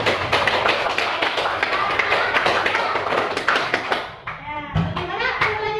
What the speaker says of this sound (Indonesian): Untuk kelompok 2 kita kasih aplaus lagi.